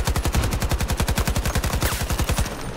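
Automatic gunfire in Battlefield 2042 rattles out in one long, evenly paced stream of rapid shots, loud and close, lasting nearly three seconds with no voices over it.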